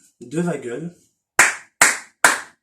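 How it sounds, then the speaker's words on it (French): A brief spoken phrase, then three sharp, loud hand claps spaced about half a second apart, each ringing out alone in a quiet room. "j'applaudis, hein"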